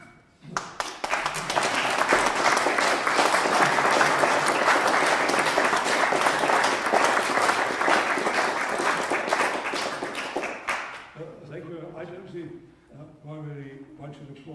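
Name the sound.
applause in church for priest's 60 years of priesthood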